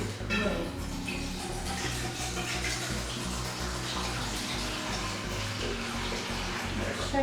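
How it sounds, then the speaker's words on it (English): Natural spring water gushes steadily into a cooking pot in a home kitchen, a continuous loud pouring splash lasting several seconds, with people talking over it now and then. "what we're going to do is pour in our natural spring water"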